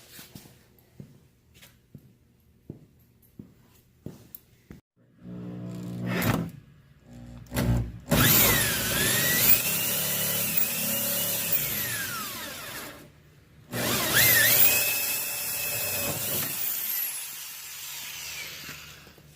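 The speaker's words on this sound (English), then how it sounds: "you can fit this drill in there" After several sharp taps, a power drill whines in two long, loud bursts with a short pause between them, its pitch shifting as it bites, drilling holes during a heater installation.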